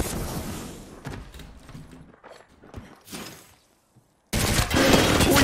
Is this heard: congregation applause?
no